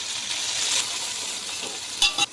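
Onions and salt frying in a large pot for chicken biryani, a loud continuous sizzle and crackle throughout, with a couple of brief scraping stirs near the end.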